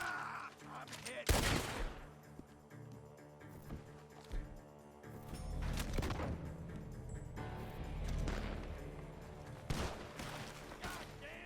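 Gunfire in Red Dead Redemption 2: sharp, loud shots crack out at intervals, some in quick clusters, over a rumbling game soundscape, with a brief voice heard at one point.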